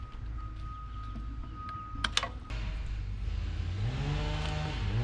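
Thirty-year-old Isuzu C201 diesel engine, intake removed, catching after a few sharp clanks, then settling into a loud, steady low rumble whose pitch climbs as it revs up.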